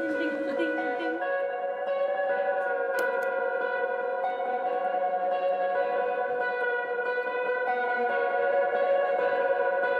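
A guitar played through a Space Echo tape-delay unit rings out sustained, harmonizing notes that blur into echoing, reverberant trails, a steady and fairly loud wash with no voices over it.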